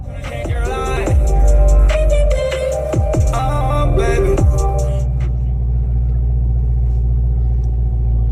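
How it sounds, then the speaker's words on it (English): A 466-horsepower Corvette Grand Sport on summer tires drives in 13-degree cold, its engine rumbling loudly inside the cabin with several rising and falling revs before settling into a steady low drone. "So I learned today driving a 466 horsepower sports car"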